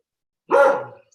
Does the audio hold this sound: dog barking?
yes